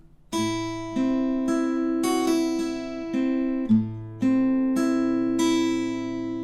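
Fingerpicked acoustic guitar notes from a song's intro ring out one after another in a flowing arpeggio, each pluck clear and sustained, played alone with no voices.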